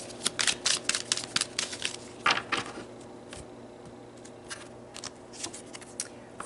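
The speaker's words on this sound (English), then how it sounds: "let's pull some more cards" Tarot cards being shuffled and pulled from a deck, a close run of quick papery riffles and flicks in bursts, with brief pauses between, no talking.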